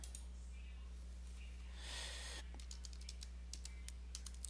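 Typing on a computer keyboard while entering a Linux terminal command, a quick run of faint, close key clicks over a steady low hum, with a soft burst of breath or noise partway through.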